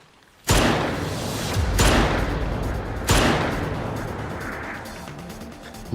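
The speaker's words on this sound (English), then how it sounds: "That was the roar of a large caliber anti-material weapon." A large-caliber anti-materiel rifle in the game Girls' Frontline 2 fires three loud, close shots about a second and a half apart, each blast trailing off in a long, rumbling echo.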